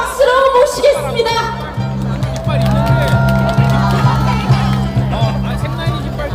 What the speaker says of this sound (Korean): 시민단체 연대회의의 진영종 공동대표님 힘찬 박수로 모시겠습니다